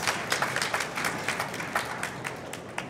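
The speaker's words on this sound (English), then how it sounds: "Can, can I uh, get some noise from you guys?" Audience at the International Physicists Tournament 2019 grand finale cheers and claps steadily, a dense burst of applause with sharp individual claps and shouts rising throughout, filling the hall without speech over it.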